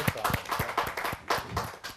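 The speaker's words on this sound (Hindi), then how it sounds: "जोरदार तालियों के साथ हम स्वागत करें अरुण कुमार" An audience claps to welcome the poet Arun Kumar from Delhi at a Hindi kavi sammelan, a scattered, moderately loud burst of hand claps lasting about two seconds with no talk over it.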